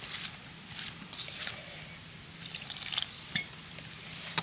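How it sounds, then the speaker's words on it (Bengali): A flour batter with egg being mixed by hand in a bowl, giving soft, faint, continuous wet swishing and squelching close by with a few light knocks. "প্রথমে এগুলোকে একটু ভালো করে মিশিয়ে নিচ্ছি"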